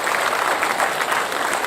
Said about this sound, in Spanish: quiero que todos les brindemos un fuerte aplauso